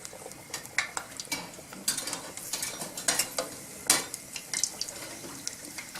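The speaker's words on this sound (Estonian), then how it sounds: "Nüüd ma võtan selle kotleti ja ettevaatlikult lasen ta nüüd õli sisse." A chicken Kiev cutlet of minced chicken lowered into hot oil, sizzling and crackling with sharp irregular spits and pops over a steady fry hiss, with light utensil clinks nearby.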